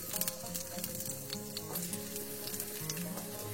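A large potato sizzles in hot mustard oil in a wok, a steady close crackling hiss with small pops throughout and no voices.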